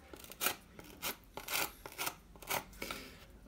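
A drill bit gouges bullet holes into a concrete-look ruin prop in short rasping, scraping bursts, about eight quick strokes in a few seconds, close but fairly quiet.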